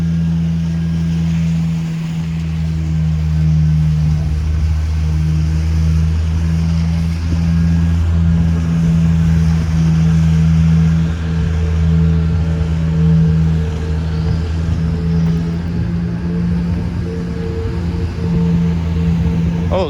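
Diesel buses rumble loudly along a busy city street in North York, Toronto, a sustained low engine drone that swells and holds for the whole stretch with no talking.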